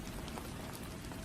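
Steady rain falls without a break, a dense, even hiss of drops pattering on a surface, constant and fairly quiet throughout.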